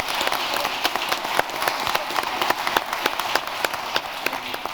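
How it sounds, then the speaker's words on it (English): An audience at a panel session gives a sustained round of applause, a dense, even wash of many hands clapping in a large room, steady and moderately loud throughout. "can we give a big round of applause for everybody in our fishbowl"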